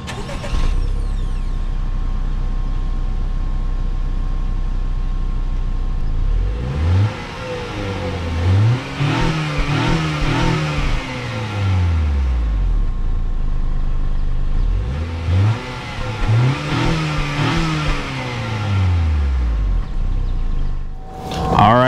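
A 2021 Acura TLX A-Spec engine revs up twice from idle, the exhaust roaring as revs climb and fall back, each burst rumbling loudly before settling to idle.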